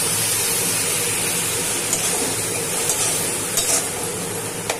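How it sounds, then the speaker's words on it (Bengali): Spice paste of cumin, chili and turmeric powders with a splash of water sautéing for a chicken and taro curry, a dense continuous sizzle and hiss with faint stirring clicks, no talk. "এবার আগে মশলাটাকে আমি কষিয়ে দেবো"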